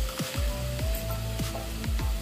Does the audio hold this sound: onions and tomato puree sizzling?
yes